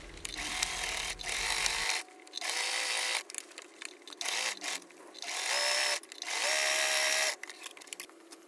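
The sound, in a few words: sewing machine stitching up Baby Yoda costume sleeves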